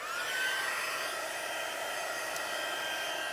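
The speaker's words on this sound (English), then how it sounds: "it's always best to preheat your heat tool so that you can emboss even quicker" Electric embossing heat tool preheating, a steady continuous blowing whir like a hair dryer, fairly quiet and unbroken.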